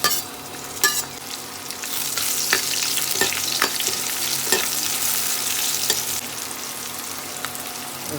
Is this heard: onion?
yes